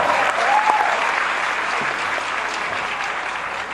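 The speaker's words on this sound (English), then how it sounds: "Let's give them a big round of applause." A large seated audience at a business conference applauds loudly, a dense sustained wash of clapping that starts at full strength and tapers slightly, with a brief voice over the top.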